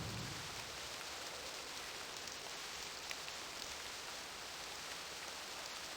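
Steady rain ambience from the Stoneship Age of the video game realMyst: Masterpiece Edition, an even, unbroken hiss of falling rain that holds at a constant level throughout, with no voices.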